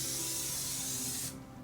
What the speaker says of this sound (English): So I'm just using non-stick cooking spray.